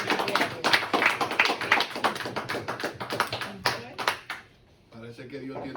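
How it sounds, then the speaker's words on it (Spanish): A church congregation claps together, dense rapid claps filling the space for several seconds before dying away, with voices mixed in. "Denle un aplauso a Cristo."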